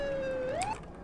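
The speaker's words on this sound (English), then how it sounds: "If you have the sirens and you press the horn at the same time, you get the siren." An emergency vehicle siren in the Roblox video game, triggered by pressing the horn while the sirens run, gives a steady wailing tone that sweeps upward near the end and then cuts off. It plays alone at a low level.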